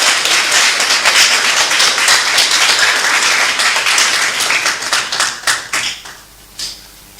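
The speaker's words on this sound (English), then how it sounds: "I think she deserves another round of applause." A crowd at a political rally gives loud, dense applause that carries on strongly, then thins into a few scattered, separate claps near the end.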